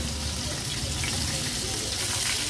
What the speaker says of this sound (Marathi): मीडियम फ्लेमवर आता हे चारी बोंबील आपण फ्राय करून घेणार आहोत